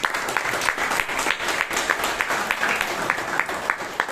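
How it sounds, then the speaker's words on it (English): Applause from the audience at a Bangalore Toastmasters meeting, a steady wash of many hands clapping at moderate loudness throughout, with no break. "let's hear a big round of applause for him"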